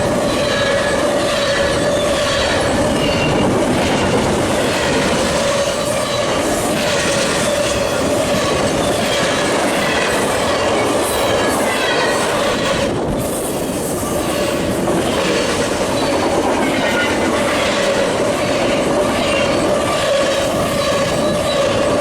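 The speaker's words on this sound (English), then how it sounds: "with a fast moving train like this" A fast CSX freight train races past very close on the St. Louis subdivision near Carbon, Indiana, a loud, continuous roar with rhythmic wheel clatter and squealing steel throughout.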